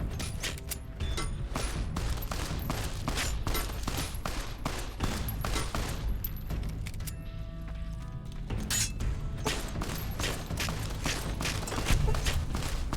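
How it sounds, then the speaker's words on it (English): Enemies from the Jackal gang open fire in the Fallout New Vegas video game. Dense, rapid, irregular gunshots crackle almost without pause, mixed with clattering mechanical clicks. "Take out the leader while this guy is just firing away at us"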